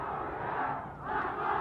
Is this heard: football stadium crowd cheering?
yes